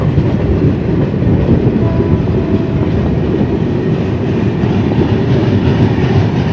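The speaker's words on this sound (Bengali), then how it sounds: "এটা হচ্ছে অগদ আসাম এক্সপ্রেস" Awadh Assam Express train passing close by at a curved crossing at sunset, a steady loud rumble of wheels and carriages with faint clickety-clack running throughout, no voices.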